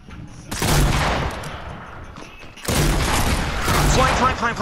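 Shotguns fire in a close Fortnite gunfight, two dense bursts of loud booming blasts with a short gap between, a voice audible under the shooting.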